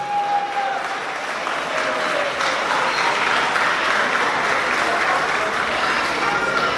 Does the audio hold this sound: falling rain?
no